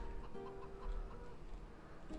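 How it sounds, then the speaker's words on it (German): Chickens clucking in the farm game Farming Simulator 2013 on an Alpine map, a soft, continuous flock murmur of short clucks over a steady low background rumble. "die Hühner, da muss man immer etwas vorsichtig sein"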